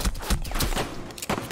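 Rapid bursts of gunfire in the chaotic multiplayer game Teddy Conflict, several sharp shots clustered close together across a brief, busy moment.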